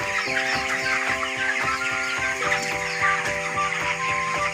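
Many poultry chickens, a flock of about 3,500, cluck and squawk continuously, a dense chorus with repeated calls overlapping, close and fairly loud, with no talking.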